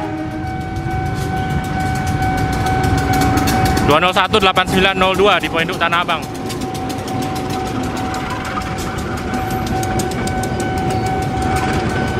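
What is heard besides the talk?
train arriving at Pasar Senen station level crossing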